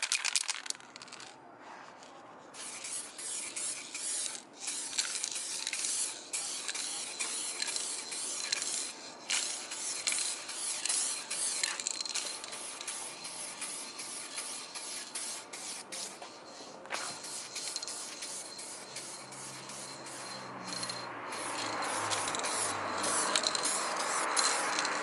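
Spray paint hissing steadily onto a bumper extension during a third coat, a continuous close aerosol spray with brief pauses and sputters, no talking.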